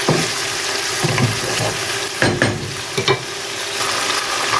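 Chicken liver and gizzards frying for adobo, a steady loud sizzle throughout with several clattering stirs of a utensil in the pan, no voices.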